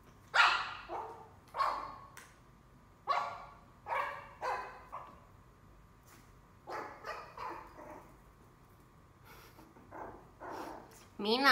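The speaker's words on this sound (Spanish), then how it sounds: "¿por qué le ladras a la comida?" A dog barks repeatedly at its food in short, loud bursts with pauses between, some whimpering yips mixed in, close by, while a person talks over it at times.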